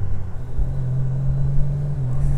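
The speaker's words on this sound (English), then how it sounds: "you can hear that it's revving higher as well" Honda Goldwing Tour DCT automatic motorcycle engine in sport mode, a steady low droning rumble held at higher revs while riding, with wind noise throughout.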